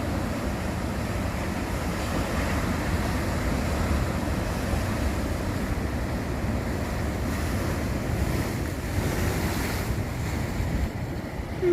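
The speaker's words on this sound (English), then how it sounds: "Look at these waves." Ocean surf rolls and breaks steadily along the coast between Torbay and Albany, a continuous close roar with heavy wind buffeting the microphone throughout and no talking.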